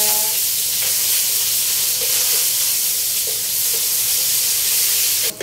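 Garlic and onion sizzle loudly in a hot frying pan at the start of a pancit guisado with egg noodles. The frying hiss is steady and close, with faint stirring scrapes.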